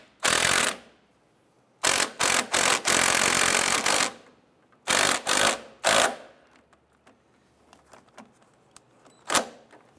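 A power tool snugs down the sway bar end link bolts on a 1997-2006 Jeep Wrangler, firing in several loud buzzing bursts of rattling impacts separated by quiet pauses, with a few lighter clicks between them.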